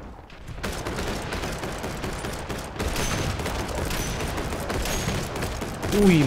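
Sniper rifle gunfire in the Jurassic Monster World video game: a dense, steady wash of loud shooting and battle noise runs throughout, with a louder swell near the end.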